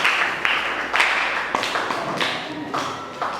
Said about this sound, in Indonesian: Chelsea, tepuk tangan.